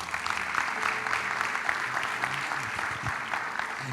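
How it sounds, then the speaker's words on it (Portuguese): Congregation at a church service applauding, a steady wash of clapping from many hands throughout, moderately distant with a faint low murmur beneath. "Você pode aplaudir o Senhor?"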